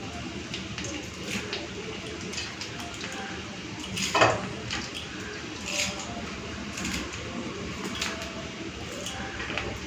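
Washed coriander leaves being cut with a knife in a home kitchen, giving light, irregular taps and scrapes with one louder knock midway, under quiet background noise.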